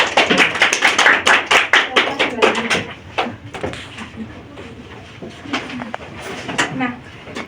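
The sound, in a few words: students clapping in a classroom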